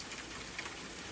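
Steady rain falling, a soft even hiss of drops with no distinct rhythm, faint and continuous throughout with no voices.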